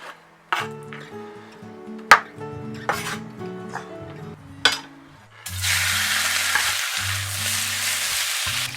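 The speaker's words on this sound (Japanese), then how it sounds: "筋肉を細かく切ってから焼いていきます。" Chopped beef tendon hits a hot pan and sizzles steadily for the last few seconds, after a stretch of soft music with scattered kitchen knocks.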